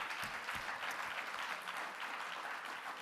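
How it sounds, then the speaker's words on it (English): Audience applause at the Breakthrough Prize Symposium, a steady, moderately quiet patter of many hands clapping for about three seconds. "let's give the speakers another round of applause."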